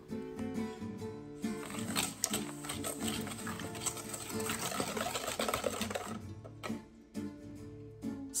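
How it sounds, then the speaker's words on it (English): Eggs and granulated sugar whisked together by hand in a bowl for a honey pecan pie filling, a steady rapid clicking and scraping rhythm that runs close and loud for most of the stretch before easing off. "Add 3 large eggs and mix well using a whisk."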